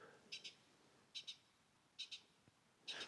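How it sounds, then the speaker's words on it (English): A bird gives paired chirping calls about every second, a repeated double note in an otherwise quiet, faintly hissing mountain setting. "There's some funny birds making noises now as well."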